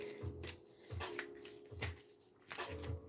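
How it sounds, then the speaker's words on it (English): A deck of tarot cards is shuffled and drawn in a quick, rhythmic riffle of papery bursts, close and fairly loud, with no talking. "So we'll pull a few cards from this deck."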